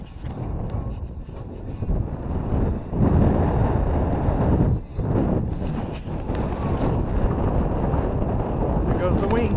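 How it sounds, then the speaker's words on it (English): Strong gusty wind buffets the microphone at a model-aircraft flying field during a Durafly Tundra RC plane's first flight in 18+ mph winds, a loud continuous roar with brief lulls, with people talking underneath. "Oh, so windy."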